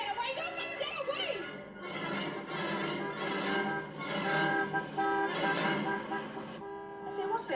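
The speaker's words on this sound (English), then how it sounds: "what's that chap honking his hooter for?" Car horn honking in short repeated toots, fairly loud, mixed in with energetic music and a busy vehicle chase scene.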